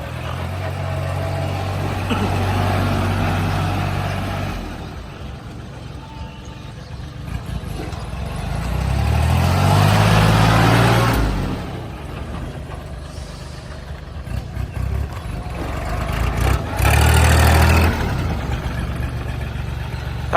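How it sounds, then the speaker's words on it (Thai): A Kubota L3608 tractor engine runs steadily with a low idling rumble, swelling louder a few times as it revs, close by with no talk. "เรามาฟังเสียงและดูการขับเคลื่อนนะครับผม เครื่องนิ่มๆ ติดง่าย ๆ"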